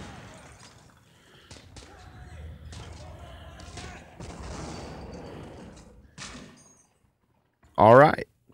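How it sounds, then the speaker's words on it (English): Sharp, impulsive pistol shots in the World War II shooter game World War Heroes, scattered irregularly among other game noise while a person talks. A loud, brief game sound comes near the end. "We're going to win this with my pistol."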